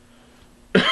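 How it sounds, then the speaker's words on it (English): A single sharp cough comes close up at the very end, after near silence, from someone who is sick with a fever. "cough? Fever."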